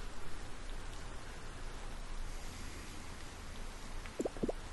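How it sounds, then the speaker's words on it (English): Steady rain in Harvest Moon: Light of Hope, a continuous broadband hiss of falling drops, with a couple of short low thumps near the end. "it's actually raining"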